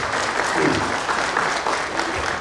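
An audience at a Turkish film days event in Bishkek claps steadily, a dense, even wash of applause that holds at the same level throughout the short stretch with no voices.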